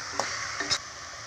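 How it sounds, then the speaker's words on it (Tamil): Biryani masala is stirred in a pot, with a soft continuous sizzle and a couple of quick spoon scrapes close by, no voices. "இப்போ இதையும் நல்லா கலரி விட்டுக்கலாம்."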